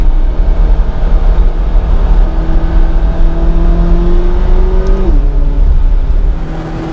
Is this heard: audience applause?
no